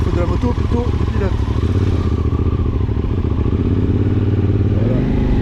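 A 2025 QJMotor SRT 600 SX motorcycle idles and rumbles at low speed through a U-turn, its steady engine drone loud and close with faint clatter, under a voice.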